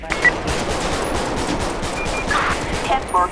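Rapid bursts of gunfire crackle through a GTA 5 LSPDFR police shootout on Rosecrans Avenue, dense repeated shots layered over constant background noise, with brief speech mixed in.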